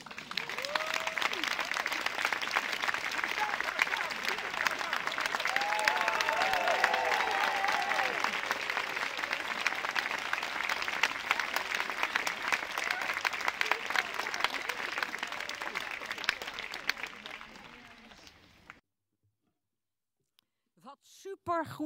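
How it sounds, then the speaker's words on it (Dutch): Sustained audience applause at an outdoor statue unveiling for Jacoba van Tongeren, dense steady clapping from a sizeable crowd for about eighteen seconds, then dropping out to near silence with a few faint sounds at the end. "maar iedereen kreeg een applaus"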